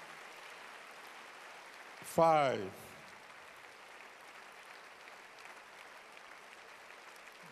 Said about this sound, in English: thank you, those of you who are clapping